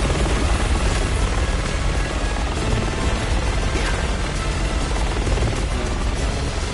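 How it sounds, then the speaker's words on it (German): Armed helicopter in the Resident Evil 6 video game, a loud, steady rotor drone that stays continuous from start to end with no pauses. "Sie haben einen bewaffneten Heli ins Spiel gebracht."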